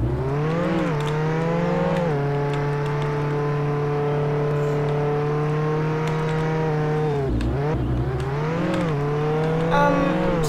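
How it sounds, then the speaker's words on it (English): Engine of the Stallion car in the Roblox game Jailbreak, a steady synthetic drone that rises and dips in pitch through shifts, loud and continuous with no speech over it. "Let me go get my car back real quick"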